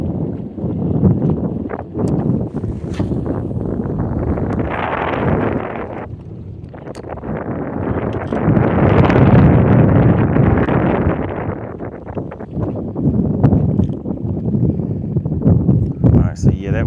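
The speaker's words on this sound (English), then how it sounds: "that wind is a little rough out here right now" Rough wind buffets the microphone on a bass fishing boat, a loud, continuous roar that swells and dips over its length, with speech seeming to run beneath it.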